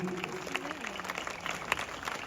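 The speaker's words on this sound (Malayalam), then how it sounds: "ഒരു കയ്യടി എല്ലാവരും ചേർന്ന് കൊടുക്കാവും ഒരു കയ്യടി" Applause from a seated audience at a stage event, a broad wash of clapping that fills the short stretch with a few sharper claps standing out, and a voice briefly audible over it at the start.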